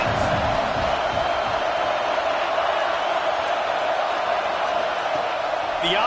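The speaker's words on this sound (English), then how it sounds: "This crowd trying to make life miserable for this offense." A stadium crowd in College Football 26 roars at a constant, dense level, with occasional whoops, under steady play-by-play commentary.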